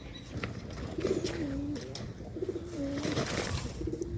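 Domestic pigeons in a Bangladeshi backyard loft, one sick with a tumour, coo in repeated rolling calls about every second and a half, close and fairly loud over a soft background murmur.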